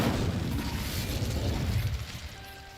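The Incendio fire spell in Hogwarts Legacy is cast as a loud, roaring burst of flame that fills the first two seconds, then dies away into a quieter tail.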